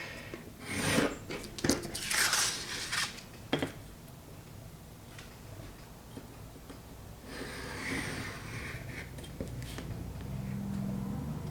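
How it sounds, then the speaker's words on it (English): A paper junk journal tag is trimmed close to its artwork, giving a few short bursts of crisp rasping cuts and scraping, fairly quiet, separated by near silence. "So you can trim this right to the artwork."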